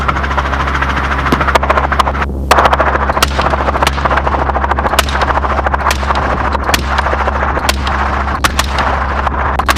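Rapid repeated gunfire cracks from a helicopter during a hog hunt, loud irregular shots over the constant heavy drone of the rotor and engine.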